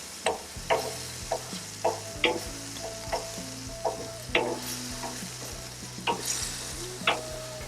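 Thanksgiving leftover patties fry in margarine in a pan, a steady low sizzle punctuated by regular sharp crackles and pops roughly every half second, close up with no talking.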